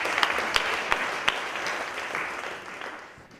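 An audience in a hall at the opening event of the International Weeks Against Racism in Heidelberg bursts into applause: dense, steady clapping with a few sharper claps, slowly fading over a few seconds.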